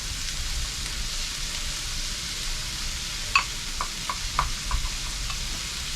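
Stir fry vegetables fry in a pan with a steady, even sizzle throughout, joined midway by a few brief crackles and pops.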